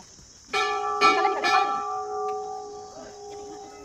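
Hindu temple bells ring at a temple complex lined with prayer flags, three bright metallic strikes in quick succession, then a long shimmering ring that slowly fades, close and clear.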